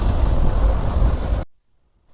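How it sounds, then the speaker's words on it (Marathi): Heavy road traffic between Latur and Pune makes a loud, low rumbling roar that cuts off abruptly partway through, leaving near silence with a brief thump at the end. "इथली ट्रॅफिक बघितली इथल्या इथं वैताग येतो"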